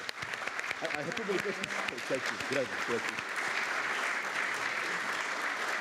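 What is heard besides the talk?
audience applause for a speaker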